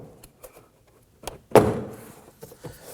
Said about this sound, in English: gently pull out on the door panel, releasing the plastic buttons holding the door panel to the shell